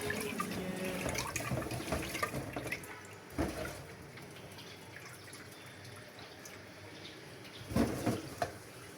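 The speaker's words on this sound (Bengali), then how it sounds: "চালগুলো ভালোভাবে ধুয়ে নিচ্ছি" Tap water runs and splashes while rice is washed by hand in a pot, a steady wash of sound with louder sloshing surges as the grains are stirred and rinsed.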